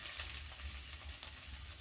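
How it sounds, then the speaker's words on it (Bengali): Onions frying in a pan with ginger just added for a Bengali winter snail (gendi) curry, a steady soft sizzle with faint stirring scrapes and one brief sharp click. "পেঁয়াজটা ভালো ভাজা হয়ে গেলে একটু আদাটা দিয়ে দিই।"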